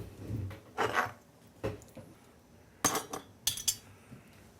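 Clinks and light metallic clatter of a two-part Tattler reusable canning lid, plastic lid with rubber gasket, being handled at the rim of a glass jar of purple hull peas, a few close, separate taps.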